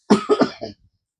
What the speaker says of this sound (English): I get in here, I start coughing all the time.